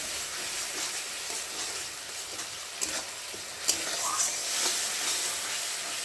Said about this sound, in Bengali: একটু ভালো করে নাড়িয়ে চাড়িয়ে নেবো যতক্ষণ না একটু সর্ষেটা কষানো হবে।